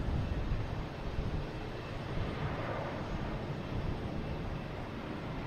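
A JetBlue Airbus A321 jet flies past at Boston Logan Airport, its engines a steady, broad roar. The sound holds fairly constant throughout at moderate distance with no voices.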